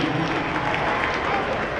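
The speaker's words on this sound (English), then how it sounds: "The fans even clapping at that one." Football fans clapping in a stadium at a San Angelo versus New Mexico game, a loud dense roar of applause and crowd noise filling the short stretch.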